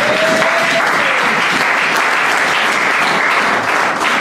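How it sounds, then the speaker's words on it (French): Church congregation applauding steadily and loudly for the full stretch, a dense, continuous wash of clapping close around the listener with no talk over it. "Acclamez un peu pour la gloire de Dieu."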